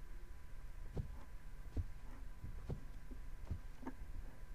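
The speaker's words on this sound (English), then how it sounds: "I can hear a heartbeat." Heartbeat in the horror video game Shadows 2: soft, muffled low thumps in an irregular pulse of about five beats over a faint steady hum, quiet and alone.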